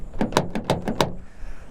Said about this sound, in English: you hear very light vibration, the chip noise from the door handle catch.